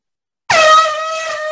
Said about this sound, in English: With other air horn.